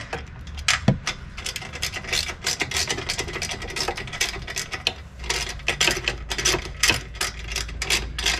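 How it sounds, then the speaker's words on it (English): A ratchet wrench turns bolts off a trailer frame during a Stromberg Jet-4500 trailer jack install, making a steady, close string of fast clicking strokes. "Then we should just have to take these"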